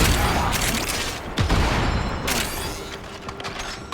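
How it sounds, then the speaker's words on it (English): Gunfire in the Warframe video game with a duplex mod active: dense, continuous loud volleys of overlapping shots and booms, with sharp cracks breaking through the steady barrage throughout. "whenever the duplex mod kicks in, all hell breaks loose and they all shooting everything up"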